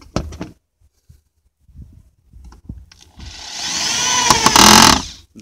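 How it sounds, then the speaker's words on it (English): A power drill drives a screw to fix a bench seat bracket in a minivan camper build. A few light knocks come first, then a loud, steady, close whine for about two seconds that cuts off abruptly. "But let's go ahead and screw this guy in."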